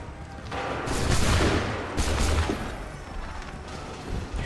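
In the Assassin's Creed III video game, soldiers fire a musket volley, a crackling burst of shots followed by a second rolling burst over a rumbling battlefield background.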